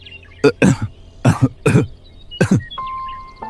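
A person coughs repeatedly, several harsh throaty coughs in quick bursts, close up, with a faint tone at the end.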